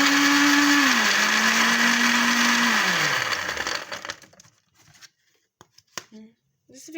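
Electric blender whirring loudly as it blends a biscuit milkshake with ice cream, its steady motor pitch dropping as it slows and cuts off about halfway through, followed by quiet clicks and handling noises.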